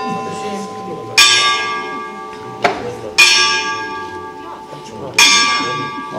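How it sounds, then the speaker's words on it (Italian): A church bell in the historic centre of Bisenti, Italy, rings three loud, resonant strokes about two seconds apart, each ringing on and decaying over a low background murmur. "aspettiamo la campana"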